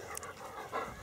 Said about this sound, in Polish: Fajny piesek, fajny.